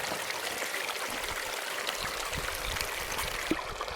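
Water from a hobby miner's high banker runs into a 5-gallon bucket, a continuous broadband trickling and splashing flow at moderate loudness, steady throughout with small splashes, no voices.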